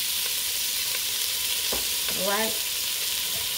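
About eight slices of cut-up bacon fry in a pan, giving a loud, even sizzle that hisses without pause, and a voice briefly says a single word midway.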